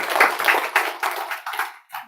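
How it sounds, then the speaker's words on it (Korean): Church congregation claps in thanks for the singers, a short burst of hand clapping that rises and falls in a few quick waves before fading out. "오늘 찬양하신 분들에게 다시 한번 감사의 박수를 한번"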